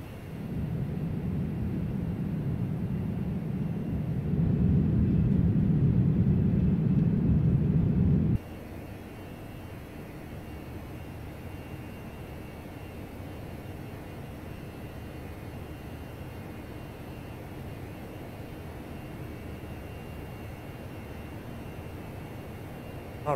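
Airbus A319 jet engines spooling to climb thrust in a flight simulator, a steady broadband roar that swells louder for a few seconds then drops to a lower, even hum for the rest.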